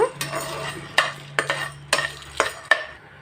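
Chana dal dry-roasting in a pan without oil, stirred in about six quick, close scraping strokes with a faint rattle of dal between them, and no talking.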